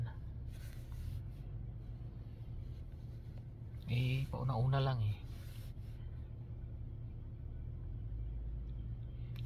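Cars circling slowly around a crowded lot with no free parking spaces, giving a steady low engine and road rumble throughout, with a voice speaking briefly over it midway.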